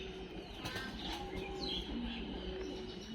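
Pigeons coo in a loft, a low bubbling murmur under a few brief higher chirps and tonal squeaks, moderately loud and steady over a short stretch.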